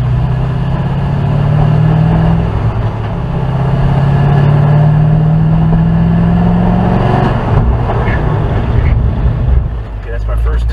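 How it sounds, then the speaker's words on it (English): A 2006 Corvette with an Mk60 ABS swap, braking hard from 60 mph during testing in Mexico, its engine droning steadily and then winding down to a stop, heard close from inside the car. "I'm gonna do a brake test from 60."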